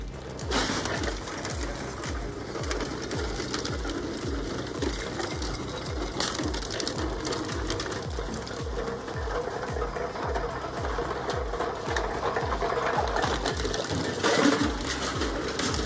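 A Maxine India shredder chews through organic waste at a rate of 1.5 tons per hour, its drive pounding out a fast, steady mechanical rhythm with grinding clatter over it, loud and continuous throughout.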